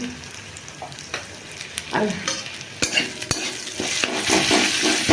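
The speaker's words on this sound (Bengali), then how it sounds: "ভালো করে মশলাটাকে কষাতে হবে।" Spice masala with chili powder fried and stirred in a pan before steamed cabbage goes in, crackling sizzle under repeated scraping strokes of a spoon against the metal, close and fairly loud; one brief word is spoken.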